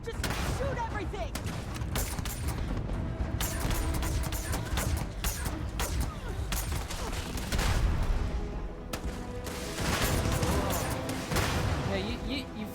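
Heavy gunfire in the Starfield video game: dense, continuous volleys of shots and impacts crackle through a noisy battle for the whole stretch, with voices mixed in.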